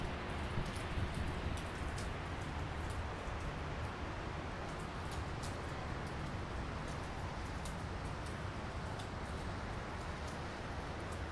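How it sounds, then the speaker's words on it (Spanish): Heavy rain pouring over downtown Miami, a dense steady wash of drops with scattered sharper splashes, continuous and without voices. "en el downtown, está lloviendo bastante"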